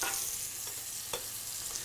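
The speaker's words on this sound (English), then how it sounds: "So we're going to sear all of the sides before we go into the oven" Pork sears in a hot pan before going into the oven, a steady soft sizzle with a couple of faint crackles and no talk.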